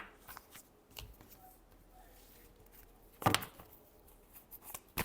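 A tarot deck is shuffled by hand, a quiet scatter of soft card flicks and taps with one sharper riffle burst midway, close and faint.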